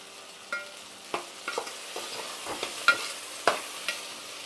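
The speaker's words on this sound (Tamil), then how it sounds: "இப்போது இதை நல்லா வதக்கி விடுங்க." Radish sambar ingredients with ground coriander sautéing in a pan, a quiet sizzle under repeated sharp scrapes and clinks of a spoon stirring, irregular and close up, no talk.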